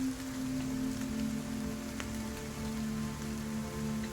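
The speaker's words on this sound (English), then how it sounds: "Like, how hard is this rain pouring? It's not like a heavy downpour. It's just a steady." Steady, moderate rain, not a heavy downpour, falls continuously and evenly throughout, with no voices.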